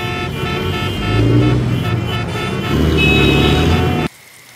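Congested city road traffic on a rainy day in India, with a dense drone of engines and sustained, overlapping car horns close by that cut off abruptly near the end.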